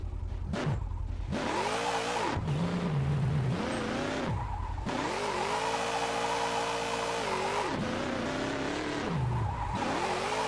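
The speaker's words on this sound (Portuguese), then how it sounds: "Tentando fazer drift em AWD." Rising and falling engine revs from an all-wheel-drive car drifting in the mobile game Car Parking Multiplayer, with long tire squeals and skids between gear changes, loud and continuous with no talk.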